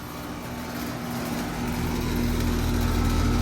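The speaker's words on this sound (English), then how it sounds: "there is the Bryant Legacy line heat pump starting up" A 2015 Bryant Legacy line 5-ton heat pump starts up outdoors, a steady motor hum and whooshing fan rising in strength after about a second and a half, then settling into a loud, constant drone close by.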